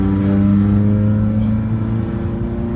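A tuned 2015 Subaru WRX STI with an external wastegate revs hard in fourth gear, its engine drone loud and close with a steady, strongly harmonic tone and slight pitch changes as it pulls.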